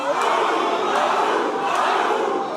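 A large crowd of Gilets jaunes protesters shouts together loudly and continuously in reply to a speaker, a dense roar of many voices sustained without pause.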